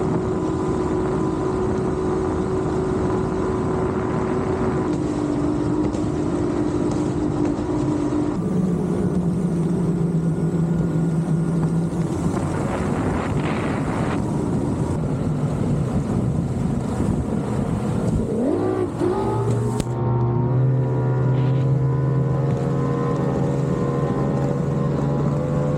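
A Mercury 3-litre 250HP EFI outboard engine, converted from a 225HP carburetted model with a new fuel pump, runs steadily on a boat for the whole stretch, its pitch climbing and changing as the throttle opens, with wind and water noise around it.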